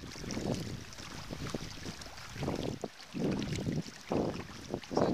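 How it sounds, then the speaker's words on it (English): Sea water slopping and washing against a kayak hull off the Mull of Kintyre, in choppy water at the end of a sound, heard as uneven close splashes with wind noise on the microphone. "Plenty of slop washing in from the churn at the end of the sound."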